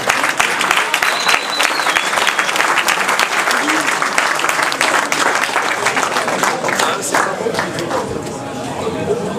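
An audience at a basketball event in Lyon applauds the team captain with dense, sustained clapping from a crowd, loud and steady, fading slightly near the end.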